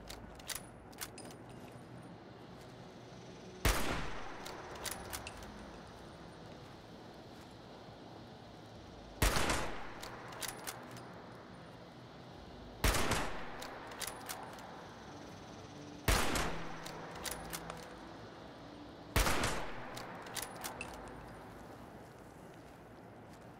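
Gunfire at a target in Fallout 76: five loud single shots spaced several seconds apart, each with a sharp crack and a decaying tail, over a quiet ambient background.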